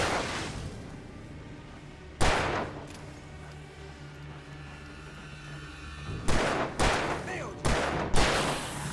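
Bursts of enemy gunfire in the Alan Wake horror game, with a loud sharp shot early on and a cluster of rapid, punchy shots near the end over a low rumbling backdrop.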